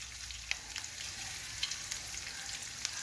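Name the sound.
ingredients frying in a pan for chutney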